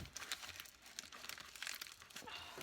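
Close, soft crinkling and rustling of damp paper towel packing from a shipment of red wiggler worms, irregular bursts with no voices.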